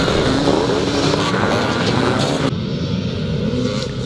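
Motocross motorcycles at a Scottish classic motocross round in Penrith race past on lap one, a loud continuous snarl of several engines revving and passing close by, with no talk.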